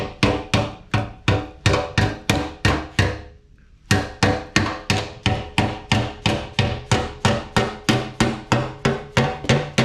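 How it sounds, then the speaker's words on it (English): A ball peen hammer strikes at an angle along the edge of a metal bar in rapid, evenly spaced ringing blows. About two dozen close, loud hits come, with one short pause near the start. "ball peen hammer, and I just kind of do an angled attack on the edge, and I'm just taking about 1/4 of an inch down"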